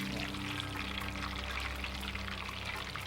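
Food deep frying in hot oil at around 300 to 325 degrees Fahrenheit, a steady, faint bubbling hiss with a low hum running underneath throughout.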